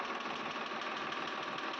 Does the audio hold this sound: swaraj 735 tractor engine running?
yes